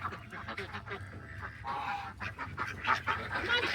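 Ducks in a chicken coop quack and honk loudly in a busy, overlapping chorus, close by and continuous, with rustling movement among the birds.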